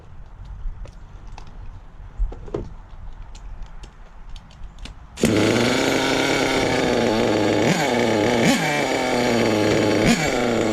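A nitro RC car engine, its fuel mixture just richened, starts up about halfway through after quiet handling noises and then idles loudly and steadily up close with a buzzing, slightly uneven rhythm.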